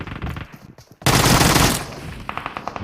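Gunfire in the video game PUBG in a squad fight at Pochinki: a sudden loud, sustained burst of automatic fire lasting under a second, with scattered softer shots and clicks before and after.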